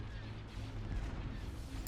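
Starship cannons fire in a space battle in Star Wars: Empire at War, a dense continuous rumble of booming blasts with no clear gaps between shots.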